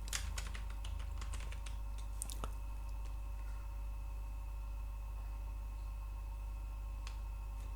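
Clicks of a computer keyboard while typing in Microsoft Word, a short burst of keystrokes near the start, then quiet over a steady low electrical hum, with no talking.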